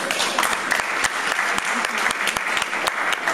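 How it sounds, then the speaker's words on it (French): Sustained applause from an audience of women at a finance meeting, dense and even throughout with occasional sharper claps standing out, fairly close and loud. "Et je vous demande à toutes les femmes de l'applaudir."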